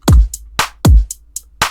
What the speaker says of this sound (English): overall it's a very simple R&B modern type drum beat